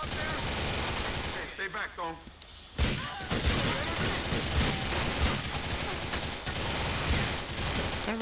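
Rapid gunfire from the video game GTA 4: The Ballad of Gay Tony, with bursts of shots running steadily through the scene under someone talking, with louder thumps midway.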